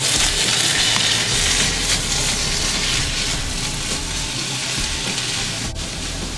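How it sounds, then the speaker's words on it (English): Pork and vegetables stir-fry in a hot pan as a loud, continuous sizzle with rustling stirring, steady throughout and close to the microphone. "So I'm going to stir fry this now, just to brown off the pork"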